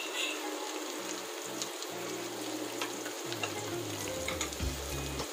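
Onions, green chili, garlic and curry leaves sauté in oil in a pan for a fish curry, giving a steady close sizzle and crackle with occasional stirring scrapes throughout.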